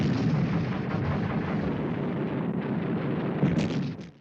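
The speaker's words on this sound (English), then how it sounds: "Entrenched on the slopes of Mount Suribachi, the Japanese command had concentrated their artillery." Japanese artillery concentrated on the slopes of Mount Suribachi on Iwo Jima, heard as a continuous heavy rumble of bombardment with dull booms blending together, loud and sustained before fading out at the end.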